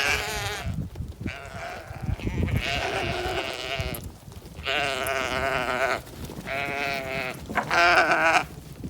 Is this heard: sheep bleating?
yes